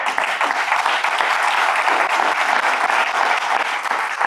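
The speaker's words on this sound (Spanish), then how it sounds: "Aplauso a Bussi, por favor." A crowd at a political event claps steadily, with dense, even applause that holds throughout at a moderate distance and no voices above it.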